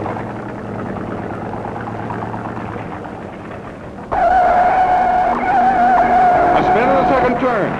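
A 1967 Chevy stock car spinning out in a turn at a NASCAR race in Charlotte, engines roaring loudly then tires skidding and squealing in a sustained screech, with a commentator talking over it.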